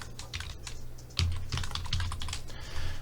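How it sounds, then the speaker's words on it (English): Someone types an answer on a computer keyboard: a quick, close run of clicking keystrokes for about three seconds, with no talking. "type in natural log of 1 plus square root of 2 for my answer"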